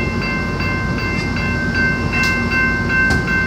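A passenger train moving along rails in a steady loud rumble, with faint rhythmic clicks, a high sustained whine and occasional brighter squeals, heard alone without voices.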